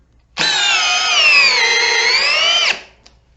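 A Makita 18V subcompact drill drives into pressure-treated wood in one steady, loud whine of about two seconds, starting abruptly and cutting off sharply, with no talking.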